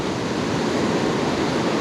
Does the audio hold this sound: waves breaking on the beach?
yes